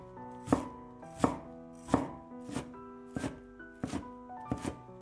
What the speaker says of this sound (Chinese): 白菜洗好之后，先给它切成细丝， 再改刀切成小丁，